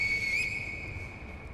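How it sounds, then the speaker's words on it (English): A Finger Whistle tool blown in Sekiro, one sharp sustained high whistle that trails off with a slight echo, heard alone and fairly clear. "You actually can hear the whistle, like, echo a little bit."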